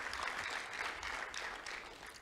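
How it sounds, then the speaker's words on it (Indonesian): A church congregation at a Sunday service applauds in worship, a soft, distant wash of many hands clapping, faint and steady for about two seconds. "Boleh tepuk tangan buat Tuhan Yesus Kristus,"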